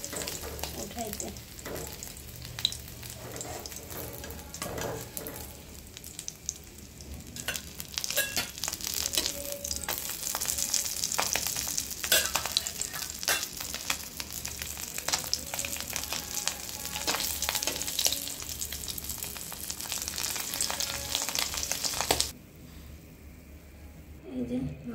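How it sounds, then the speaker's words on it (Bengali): Tengra fish fry in hot oil in a pan, giving a steady, dense sizzle and crackle that runs throughout with occasional stirring scrapes, then drops sharply near the end. "দেখেন আমার মাছগুলো কিন্তু ভাজা হয়ে গেছে"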